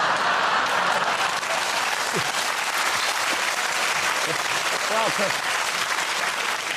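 Studio audience on a 2008 British chat show applauding steadily throughout, a dense sustained wash of clapping with a brief voice speaking over it.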